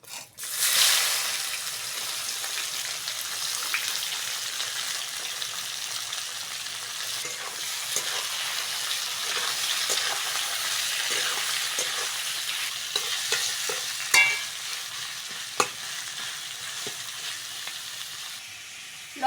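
Onions, tomatoes and green chillies fry in a pan with cumin, dried red chillies and bay leaves, a steady loud sizzle and hiss with occasional stirring scrapes and clicks, no voices.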